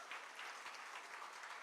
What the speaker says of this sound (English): Give her another round of applause, ladies and gentlemen.